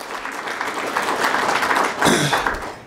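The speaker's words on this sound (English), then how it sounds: "let's give another round of applause to Ann Burke" An audience at a forum gives a round of applause, a dense wash of clapping with a brief louder swell before fading at the end.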